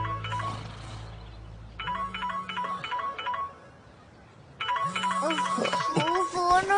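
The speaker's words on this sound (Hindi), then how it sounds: "जब भी फोन बजता है उठाते क्यों नहीं हो?" A telephone ringtone plays in bursts of trilling electronic rings, close and fairly loud, with pauses between rings and faint room sounds underneath.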